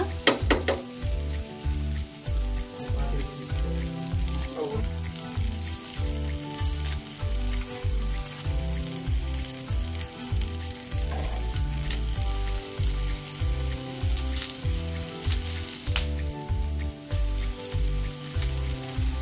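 Coriander and mint leaves fry in oil for a Mangalore-style mutton curry. A steady, soft sizzle runs throughout beneath a louder rhythmic musical beat.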